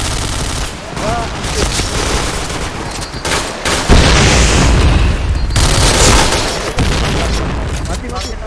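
Loud, dense gunfire and booming blasts from a shooting video game match, with a heavy explosion-like burst near the middle amid continuous rapid shots and chatter, players talking over the action.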